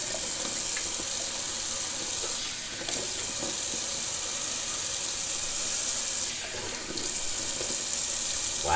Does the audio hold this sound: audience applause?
no